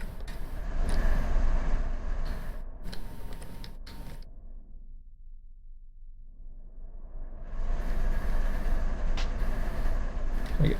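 A train runs in the Run8 train simulator, a steady rumble and rattle of rail cars that fades to quiet in the middle and then swells back up loudly, with no talking.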